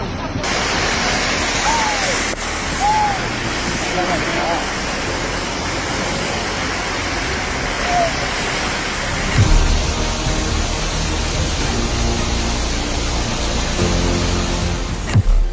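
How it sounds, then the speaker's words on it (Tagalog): Rushing floodwater during Typhoon Kristine in southeastern Luzon pours as a continuous broadband roar, loud and unbroken, with a few faint bird calls and brief voices heard over it. "Yan, lalaki ng baha."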